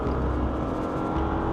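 A GWM Tank 700 V6, in two-wheel drive with wheels spinning, accelerates hard from 0 to 100 in a brief, loud, continuous engine roar heard from inside, with no talk.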